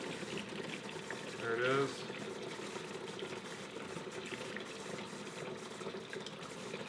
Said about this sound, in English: I'm going to add this as I fill up the water